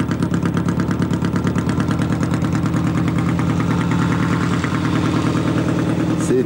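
A 1940 Triumph 500 Twin motorcycle engine runs steadily close by in original, unrestored condition at a classic racing event, its rapid even firing pulses throbbing loud and continuous throughout.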